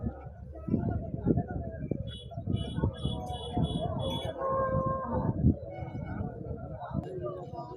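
Large cows low repeatedly at the weekly Husnabad livestock market, deep moos rising over people talking and other animal noises.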